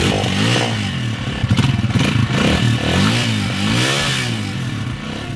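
A Vento Thriller 200 motorcycle is kick-started close up: a clattering kick, then the engine catches with a burst of revving and settles into a steady idle.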